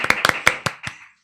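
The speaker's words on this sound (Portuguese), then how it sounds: "uma salva de palmas" A few sharp, separate hand claps ring out during a podcast welcome, about six crisp slaps in an uneven rhythm that fade out within a second, close and clear with no voices over them.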